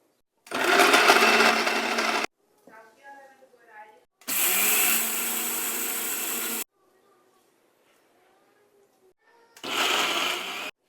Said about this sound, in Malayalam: ഇതൊക്കെ ഇനി പൊടിച്ച് ഒരു പാത്രത്തിലിട്ട് കുഴച്ച് ഉണ്ടയാക്കി എടുക്കണം. അങ്ങനെ നമുക്ക് ഓരോ ഐറ്റംസും പൊടിക്കുന്ന ജോലിയിലേക്ക് കടക്കാം.